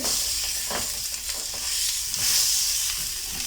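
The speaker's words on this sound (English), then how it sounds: "now I'll just fry them for a minute" Hot dogs frying in a tablespoon of oil in a pan, a continuous close crackling sizzle with small pops and stirring scrapes, fairly loud and steady with no talk.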